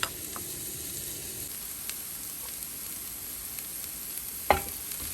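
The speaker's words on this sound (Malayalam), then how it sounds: "ഈ ചെറിയ ഉള്ളി ഇങ്ങനെ വഴറ്റിയെടുത്തുകൊണ്ടിരിക്കപ്പെട്ട്" Small onions sauté in a pan while mutton curry is cooked, Kerala style, giving a faint, steady sizzle with occasional light ticks and one sharper clink near the end.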